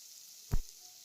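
Cumin seeds hit hot oil and butter in a pan and give one short, close sizzling burst that fades within a fraction of a second.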